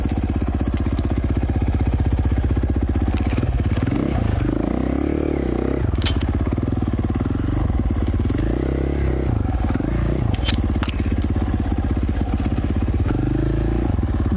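A 2017 KTM 450 XC-F four-stroke dirt bike engine, a five-speed, drones loud and close throughout, its pitch rising and falling as the rider shifts through the gears and winds it out.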